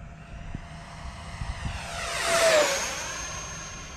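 An E-Flite F-16 Thunderbird 70mm electric ducted-fan RC jet at full throttle: a rising whine that swells into a loud rushing pass overhead, then fades away, with faint outdoor bumps early on.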